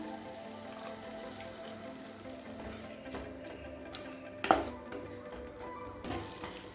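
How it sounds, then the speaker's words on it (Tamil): Water poured into a pan of frying chili masala for egg noodles, giving a soft steady hiss and gentle sizzle close by, with a light splash and clink partway through and no talking. "இது கூடவே 1/4 கப் அளவுக்கு தண்ணி சேர்த்துக்கலாம்."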